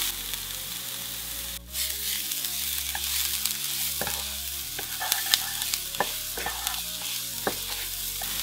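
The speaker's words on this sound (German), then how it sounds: "geben wir den Knoblauch dazu und rösten ihn mit an" Garlic and onion sauté in a pan with a bright, continuous sizzle, close and fairly quiet, punctuated by crackles and spoon scrapes against the pan.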